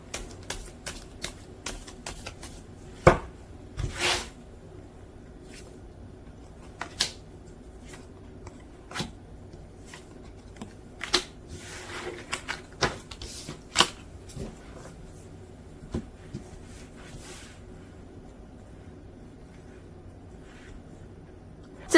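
Tarot cards are shuffled and drawn in a quiet room, with a run of soft riffling bursts, scattered crisp card snaps and slaps at irregular intervals, close and fairly faint.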